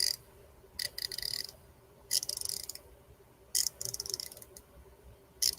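Tekton 90-tooth ratchet of the new style clicking in several separate bursts of fine, rapid ticking, close up with quiet pauses between, no talking.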